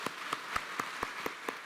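A church congregation claps together in a steady, rhythmic beat, with sharp, evenly spaced claps sounding about four times a second against a soft background.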